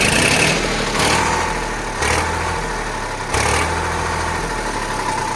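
A Sonalika DI 745 RX tractor engine idles close by with a steady low diesel rumble that swells slightly in a few periodic surges.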